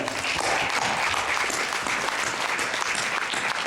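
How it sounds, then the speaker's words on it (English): A crowd at a conference keynote claps steadily throughout, dense and continuous applause from an audience at moderate distance. "let's applaud you"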